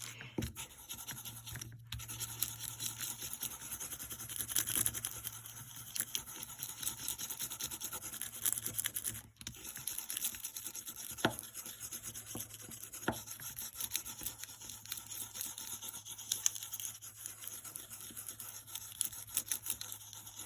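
A stencil transfer being burnished by hand, a close, continuous fine scratchy rubbing that runs steadily throughout with small irregular pauses.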